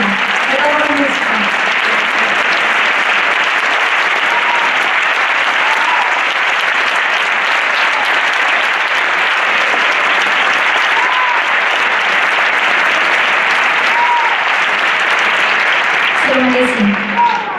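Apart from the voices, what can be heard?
audience applause for the orchestra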